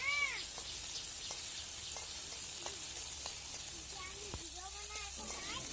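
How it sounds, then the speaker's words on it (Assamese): Kuchia fish with ginger garlic paste frying in a pan gives a constant hissing sizzle throughout, while a cat meows several times nearby. "তাৰপিছত আকৌ অকণমান ভাজিছোঁ।"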